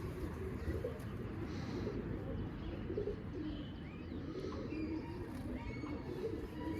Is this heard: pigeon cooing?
yes